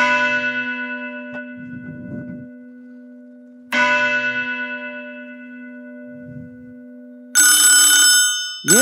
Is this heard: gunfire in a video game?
no